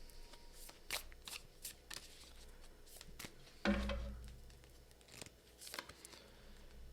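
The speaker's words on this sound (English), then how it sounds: "So I'm gonna pull you one more card." Tarot cards shuffled and one pulled from the deck, a series of soft riffling flicks with a sharper, fuller card snap partway through, close and alone with no talking.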